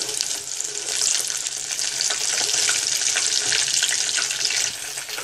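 Chilli chicken pieces fry in hot oil, giving a close, steady, bright sizzle with soft bubbling throughout, with no talking.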